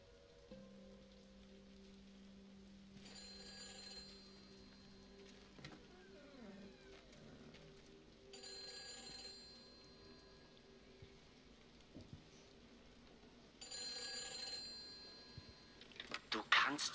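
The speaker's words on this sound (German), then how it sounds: "Valahol csörög a telefon." A telephone rings somewhere in the video game Everybody's Gone To The Rapture, its rings arriving in three separate bursts a few seconds apart over a quiet, hushed background.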